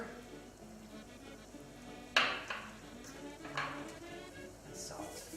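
Mushrooms sauteing in a pan with mushroom broth, a soft steady sizzle with occasional clinks and stirring scrapes of a utensil against the pan, fairly quiet and close.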